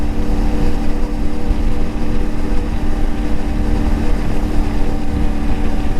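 The engine of a CFMoto Ibex 450 lightweight adventure motorcycle, a bike with a sputtering and stalling problem, runs in a loud, close, unbroken drone that holds steady throughout, with no talk.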